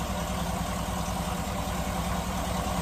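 A 2007 Cadillac Escalade engine idles steadily while warming up after its first startup following camshaft sprocket and oil pump work, a constant low rumble with no talk.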